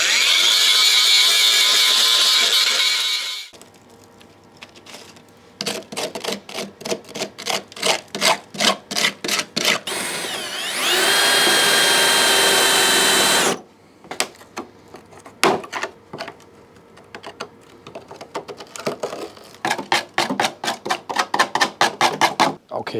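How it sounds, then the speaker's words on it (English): Rust is cut away from a previously repaired, filler-laden Porsche 924 front wing: two sustained loud grinding bursts alternate with long runs of rapid, rhythmic rasping strokes on the metal, close and alone. "But I'm gonna cut away the rust and see what I'm left with."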